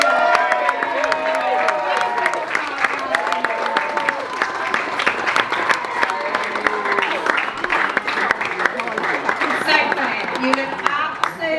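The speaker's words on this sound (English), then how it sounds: "Can I please get a huge round of applause?" Wedding guests applaud during the speeches, a dense, sustained round of clapping with cheering voices and crowd chatter mixed through it for the whole stretch.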